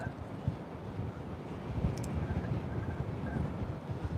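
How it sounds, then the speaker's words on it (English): Steady coastal wind buffeting the microphone on a shore facing the Irish Sea, a low rumbling roar that continues throughout with no voices. "it's a bit windy, you know"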